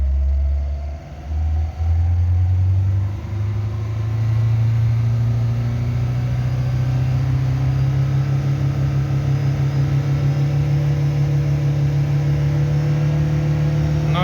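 A car engine undergoing a decarbonising test without an oil change revs up as the gas pedal is pressed, rising from a low idle into a steady, loud, higher drone that holds close and constant with no talking.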